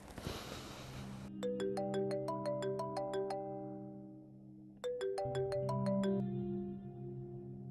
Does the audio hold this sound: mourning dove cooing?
no